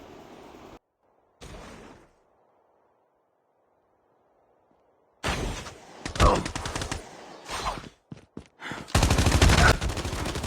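Bursts of rapid automatic gunfire from a Call of Duty Mobile battle royale match, loud and close, with a short burst early, a quiet gap, then dense overlapping volleys and a sustained final stream of shots.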